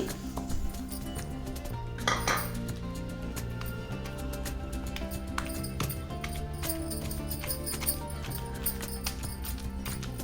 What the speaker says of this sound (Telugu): నెక్స్ట్ మనం వంకాయ ముక్కలను వేసుకొని అవి కూడా చక్కగా నూరుకోవాలండి